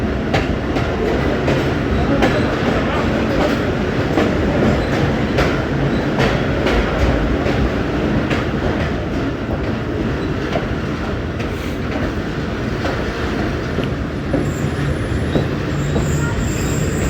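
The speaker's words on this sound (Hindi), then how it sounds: "तो जनाब फाइनली नौशेरा जंक्शन पहुँच गई है हमारी train one up Khyber mail." Khyber Mail passenger train pulling into Nowshera Junction in Pakistan, with loud continuous rumbling, rhythmic wheel clatter and occasional squeals from the carriages throughout, heard up close from on board.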